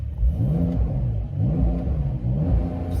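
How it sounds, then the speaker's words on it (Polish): A Porsche 911 engine revs repeatedly, its exhaust note rising and falling in a few swelling pulls, loud and close, with no talking. "Czy coś słychać z tych wydechów?"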